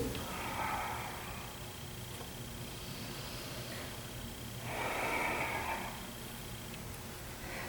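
Slow breathing during a gentle qigong stretch, two soft broad breaths a few seconds apart, close and quiet over a faint steady hiss.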